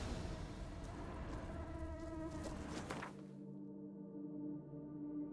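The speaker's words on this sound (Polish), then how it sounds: "Komary, komarzyska." Buzzing mosquitoes in The Witcher 3: Blood and Wine on PC, a continuous insect drone layered with game ambience, the high hiss dropping away near the end while the hum carries on.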